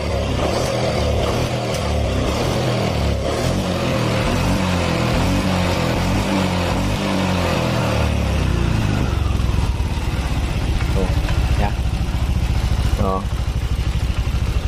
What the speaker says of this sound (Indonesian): saya kira suara segini wajar, ya, normal untuk motor Vario injeksi